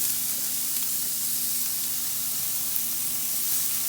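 Onions sizzle in olive oil in a pan, a loud, dense, continuous hiss that holds evenly from start to finish with no talking.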